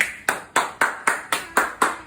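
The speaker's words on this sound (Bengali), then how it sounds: "একটা হাততালি দেবে না" A small child claps hands eight times in a steady, even rhythm of roughly four claps per second. Each clap is sharp and close, with quiet between the claps.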